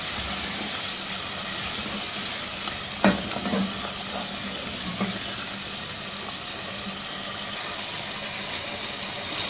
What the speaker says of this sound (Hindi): पानी शामिल करेंगे हस्बे ज़रूरत,